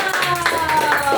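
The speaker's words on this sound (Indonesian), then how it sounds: "Kita kasih aplaus untuk Agustus." Audience applause at an Indonesian gathering, a steady patter of many hands clapping throughout, with voices mixed in underneath.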